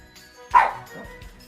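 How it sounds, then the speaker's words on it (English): A dog lets out a single short, loud bark close by, followed by softer low murmurs. "Hey, buddy, what are you barking at?"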